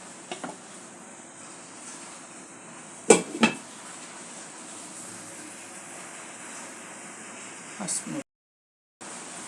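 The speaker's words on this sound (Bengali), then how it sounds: "জল দিয়ে ঢাকনাটা দিয়ে দেব।" A lid goes onto a cooking pot after water is added for a rohu fish curry, two quick metallic clanks over a faint steady kitchen hiss.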